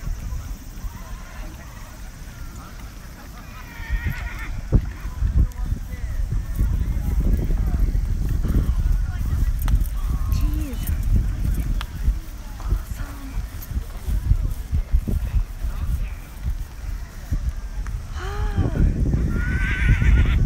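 Horses of samurai horsemen in armor at the Soma Nomaoi festival in Japan whinny now and then while hooves clip-clop through loud, constant crowd noise and nearby talking.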